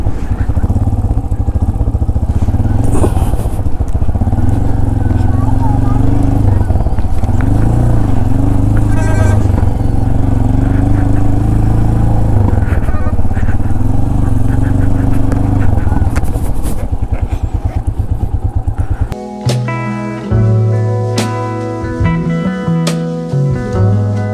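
A motorcycle engine runs steadily at the Ganga Choti base, around ten thousand feet up, a loud close drone with shifting revs, while people talk over it, ending in a brief burst of music.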